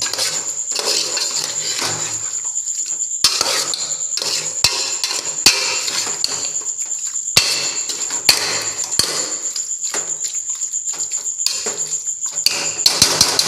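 Metal spoon scraping and clinking against a pan while chicken pieces are stirred for a Hyderabadi chicken curry, with irregular sharp knocks over a steady sizzle throughout.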